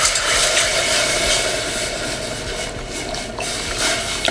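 Water pours into a cooking pot of dry grits for shrimp and grits, a loud steady splashing, filling rush up close that lasts throughout with no talking.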